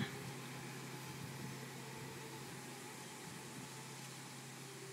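Motorized ice chest car running with its small engine giving off a steady, even mechanical hum that holds constant for the full five seconds, with no talking.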